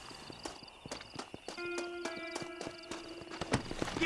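Horse hooves clip-clop steadily at a walking pace in Red Dead Redemption, close and clear, with a low hum underneath and no talk.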